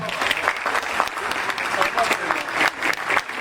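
Wedding guests applaud during the marriage certificate handover, a lively, sustained round of many hands clapping close and loud, with faint voices mixed in.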